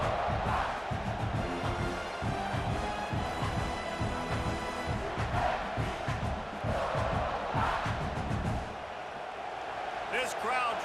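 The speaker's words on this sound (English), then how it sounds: "This crowd trying to make life miserable for this offense." Stadium crowd noise in an American football video game, a loud continuous roar with rhythmic thumping and chanting that runs under commentator talk throughout.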